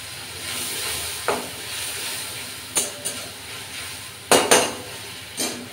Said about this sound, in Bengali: আমি এই মশলার সঙ্গে সর্ষেটাকে আমি সুন্দর করে নেড়ে নিই